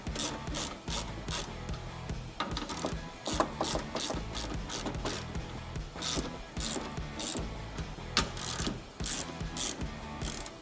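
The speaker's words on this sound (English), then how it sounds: "So I'm just tightening both sides a little bit at a time." A hand ratchet tightens the tow hook bolts on a C5 Corvette, clicking in quick, rhythmic strokes with short pauses, close and clear.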